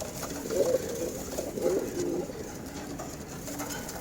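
Soft, low coos from high-quality pigeons come in a few short phrases over a steady background hiss, fairly close and gentle, with no talking.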